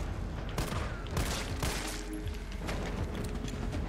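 Gunfire in the Resident Evil 3 Remake video game, with several sharp shots in irregular succession over a dense, loud game soundscape and no talking.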